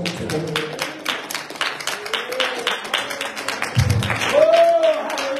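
A church congregation claps in a steady rhythm during worship, sharp repeated hand claps under singing voices and a sustained musical tone.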